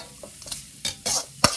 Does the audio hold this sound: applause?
no